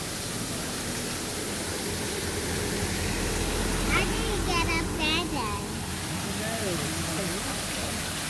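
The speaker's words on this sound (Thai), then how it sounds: "ไปดูน้ำตกค่ะ" A tall waterfall gives a constant, even rushing roar that fills the whole stretch, with people's voices faintly over it.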